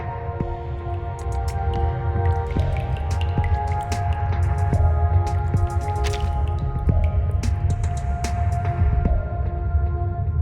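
Water drips steadily from a ceiling near a window indoors, sharp little plinks in an irregular rhythm over a low, constant hum.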